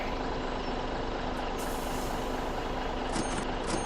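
A trailer unfolding in Farming Simulator 17 gives a steady loud mechanical rumble and hiss, with short air-brake-like bursts of hiss partway through and near the end.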